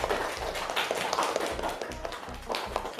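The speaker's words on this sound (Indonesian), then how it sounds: "Kita beri tepuk tangan untuk semuanya." A classroom of schoolchildren claps together, a dense patter of many hands rising and falling in brief bursts, close and fairly loud with no talk over it.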